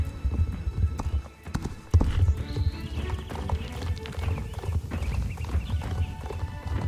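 Horse hooves clip-clop in a video game, a close, brisk run of hoof beats with occasional neighs and whinnies, steady throughout over a busy game soundscape.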